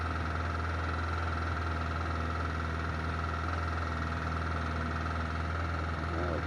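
A motorcycle engine idles during warm-up, a steady low mid-pitched rumble that stays constant and close throughout with no change in revs.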